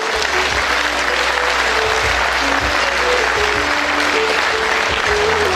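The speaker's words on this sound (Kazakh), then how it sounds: "Қол шапалақтармен күтіп аламыз." A concert audience at a Karakalpak music show claps loudly and continuously, a dense close wash of applause with no other sound over it.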